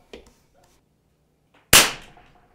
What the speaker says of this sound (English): Let's shoot another one.